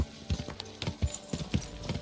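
Rhythmic clip-clop of horse hooves in Kingdom Come Deliverance 2 striking hard ground at a steady trot, close and fairly loud, with a low musical hum beneath.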